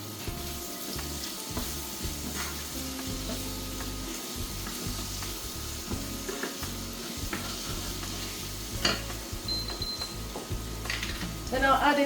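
Chopped onions fry in a pan of oil that was earlier used for turkey steaks, giving a steady, close sizzle with stirring clatter throughout and a faint hum underneath.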